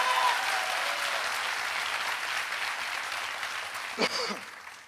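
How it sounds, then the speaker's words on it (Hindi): Sustained audience applause at a motivational seminar, a dense even wash of clapping that slowly tapers, with a brief sharp knock near the end. "तालियां कमजोर है दोस्तों"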